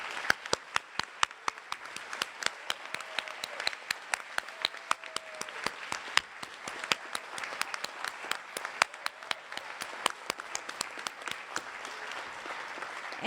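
An audience applauds at a Las Mananitas celebration honoring union leadership, with dense, sustained clapping from a crowd that holds at an even level for several seconds.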